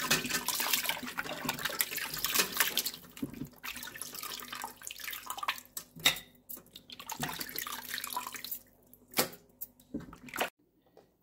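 Running water splashes as pork meat is washed under a tap, a steady close hiss of flowing water broken by clattering handling noises and brief pauses.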